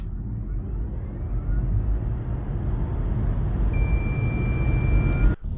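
A Volvo EX30 electric car accelerates hard to 100 km/h, with a broad road and tyre rumble building steadily inside the cabin and a thin electric whine rising near the end before a brief cutoff.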